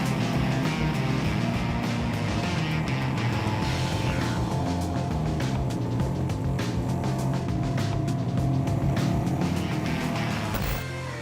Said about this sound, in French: Je teste pour vous la RZR 900 2017, version 50 pouces pour la trail.